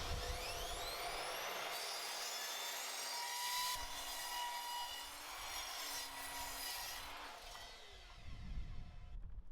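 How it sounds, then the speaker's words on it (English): A miter saw cuts wooden boards to length for a raised vegetable bed, a steady whining blade tone with rubbing and sawing texture running for most of the clip, fairly close and without talk. "then I can get a couple of bits cut to length on the miter saw"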